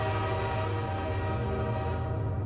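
Loud, sustained video-game train horn sounding continuously as a single steady blast with rich layered tones, heard alone without talk.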